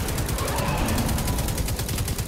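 Sustained rapid gunfire in Destiny 2, shooting an enemy, rattles steadily for the whole stretch, loud and close with densely packed shots.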